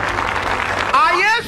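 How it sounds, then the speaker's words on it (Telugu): A church congregation bursts into a short, loud wash of dense clapping, with a voice rising over it near the end. "గట్టిగా చప్పట్లు కొడదాం."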